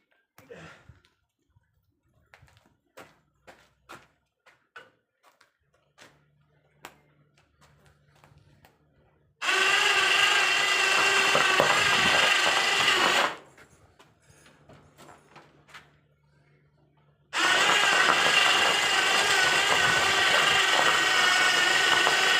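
A winch fitted to a ZIM 350 tractor with failed hydraulics pulls in two loud, sustained mechanical runs. Scattered light clicks and handling noises come before the runs, and a quiet pause separates them.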